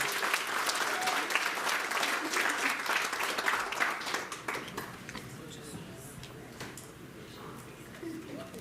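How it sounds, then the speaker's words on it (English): An audience at a girls' grammar school old girls' centenary gathering breaks into warm applause, loud and dense at first, then thinning and fading to scattered claps and murmuring voices. "can we give her a round of applause?"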